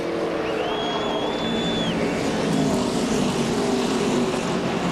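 NASCAR stock cars racing at California Speedway, a steady loud roar of engines with a rising and falling whine as cars pass, continuous and dense throughout.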